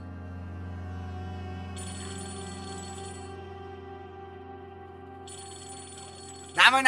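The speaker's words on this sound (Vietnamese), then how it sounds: "Nam ơi Nam, có điện thoại kìa Nam." A telephone rings indoors in two electronic ringtone bursts over a steady background music bed, followed by a brief loud clatter at the end.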